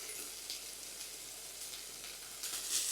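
Seasoned food with garlic powder, onion powder and salt stir-fries in a pan, a faint continuous sizzle that swells briefly near the end, with no voices.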